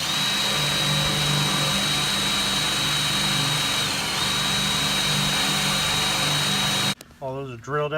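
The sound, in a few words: power drill drilling holes in a Toyota Tacoma truck bed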